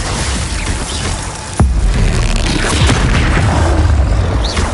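Confringo and Bombarda spell blasts in Hogwarts Legacy, a loud booming explosion landing suddenly and rumbling on in a deep sustained roar amid crackling debris, close and heavy.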